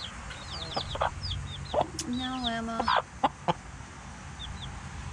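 Hens cluck and squawk nearby in a backyard flock, with short chirpy calls scattered throughout, a longer drawn-out cackle in the middle and a brief spoken phrase near the start.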